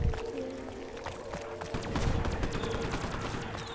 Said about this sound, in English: Alright, fireworks!